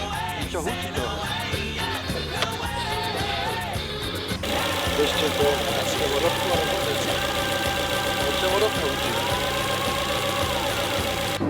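A Ford Fiesta engine, just refitted hours earlier, hums and knocks steadily, shifting to a louder, busier running tone halfway through, with voices over it.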